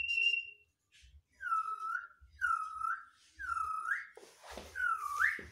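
A pet parakeet whistles in four or five short rising notes, each separated by a brief pause, fairly close and clear over a faint low rumble.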